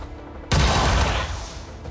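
A burst of gunfire from soldiers in the turn-based game XCOM 2: War of the Chosen erupts suddenly after a quiet start, loud and dense, then trails off in a ringing decay.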